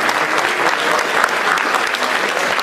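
Sustained, dense applause from a concert audience at a Haifa Symphony Orchestra story concert of Peter and the Wolf with theatre students, loud and even throughout with no voices.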